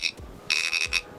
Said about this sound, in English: an old-school buzzer called a thumper, once used by card cheats